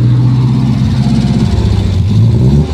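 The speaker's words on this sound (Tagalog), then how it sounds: "ang ganda ng tunog ng makina. Tsaka nung tambutso, ano?" A V8 car engine revs through its exhaust, a loud, steady low throb that rises and dips slightly, close by and heard alone.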